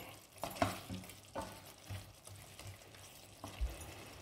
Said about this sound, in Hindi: और ये रही हरी मिर्चें, इसको भी मिक्स कर लेते हैं ऐसे।